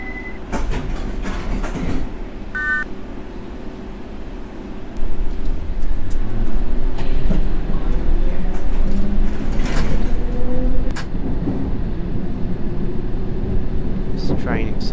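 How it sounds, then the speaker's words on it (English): A London Underground Circle line train in World of Subways pulls away slowly, its low motor drone and rumble building over several seconds, with a few short beeps and clicks near the start and someone talking over it. "This train accelerates quite slow."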